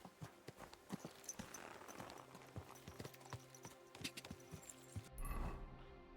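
Steady clip-clop of horse hooves at a trotting rhythm in the video game Kingdom Come: Deliverance 2, with a low rumble rising near the end.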